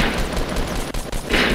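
Rapid gunfire from the Fortnite battle royale video game rattles in a dense, loud burst across the short stretch, close and continuous, with no talk over it.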